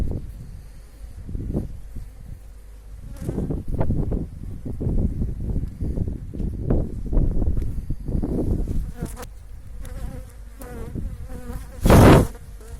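Honey bees buzz steadily in an opened hive during an inspection of queen cells and capped brood, a close, dense drone with brief louder swells.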